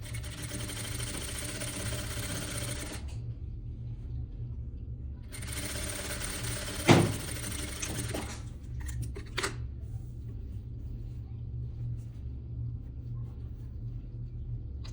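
A sewing machine stitches a costume seam, running in a steady near burst, pausing, then starting again, with a few clicks and handling knocks after the second run.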